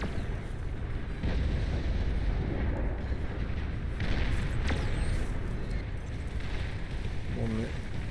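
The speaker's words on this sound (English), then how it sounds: "he's already started receiving some long-range plasma cannon fire." Long-range plasma cannon fire in the strategy game Beyond All Reason, a steady stream of muffled distant booms and bursts against a dense battle background, with a voice talking over it.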